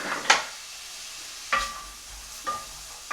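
Aloo paratha frying in a pan in a Punjabi village-style kitchen, a faint steady sizzle broken by four sharp, spaced scrapes of a utensil against the pan.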